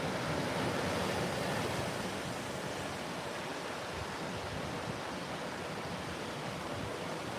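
Steady broadband surf from waves at a beach, a continuous even wash with a low rumbling churn underneath, constant and fairly full throughout with no voices.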